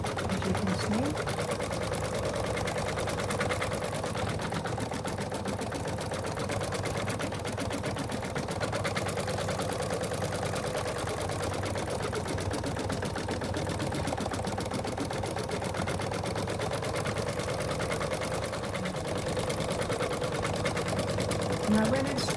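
A sewing machine stitches steadily around a cat paw print design, a continuous close mechanical whirring and rapid needle rattle that persists evenly throughout.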